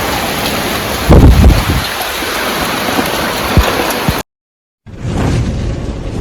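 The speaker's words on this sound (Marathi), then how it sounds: "आणि पाऊस काही कमी नाही होत" Heavy monsoon rain pours on a leaking village house in a dense, steady hiss with a few louder splashes, briefly cutting to silence before the downpour resumes.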